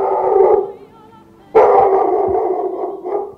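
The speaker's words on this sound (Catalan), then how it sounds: "Ai, Quiqueta, els gossos s'han fet els amos de la via pública." Dogs barking and howling in a street, a loud sustained howling chorus that drops away briefly and then surges back at close range.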